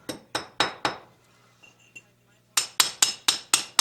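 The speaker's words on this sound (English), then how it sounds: "He's going to bust away some of the concrete, not a lot." A steel chisel is hammered into a concrete basement wall along a leaking crack: sharp, loud ringing strikes, three in a quick row, then a quiet pause, then a fast run of six blows close by.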